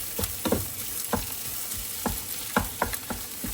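Eggs are stir-fried into spicy fried rice with fish sauce over high heat, a hissing sizzle broken by repeated rhythmic scrapes and taps of the spatula against the pan, close and without voices.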